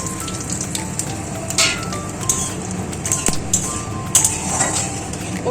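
Cinnamon and white cumin crackle in hot oil on a low flame for tempering, a close, steady sizzle with scattered pops and faint clinks of a utensil against the pan.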